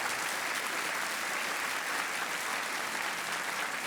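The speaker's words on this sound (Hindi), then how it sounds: "तालियों के साथ आपका अभिनंदन करता हूँ" A TV quiz show studio audience delivers sustained, dense applause, a continuous wash of clapping at a steady level with no talking over it.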